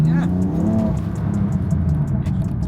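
A BMW F80/F82 M3/M4 fitted with special downpipes and the stock exhaust system runs loud and close, its engine note rising briefly at the start before settling into a steady, rumbling drone.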